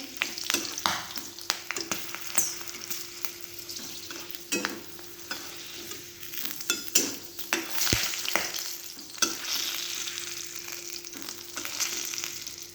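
Dried red chillies, garlic and cumin frying in hot oil for a quick chutney, a steady close sizzle broken by repeated stirring scrapes and clicks of a spoon in the pan.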